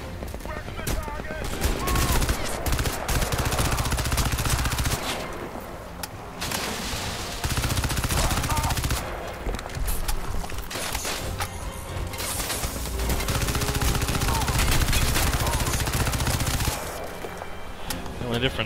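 Bursts of automatic gunfire with the silencer removed in the shooter game Crysis 2, loud and dense, mixed with game effects and music throughout.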